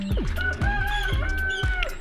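Several 14-day-old Dominant CZ Artisan egger chicks cluck and squawk close by in repeated rhythmic bursts, their calls overlapping into a busy, loud chorus.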